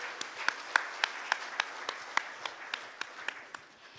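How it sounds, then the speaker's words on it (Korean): An audience applauds at a construction industry forum, with steady clapping of a modest crowd carrying on for a few seconds as a clear, sharp rhythm of individual claps. "여러분 큰 박수 부탁드립니다."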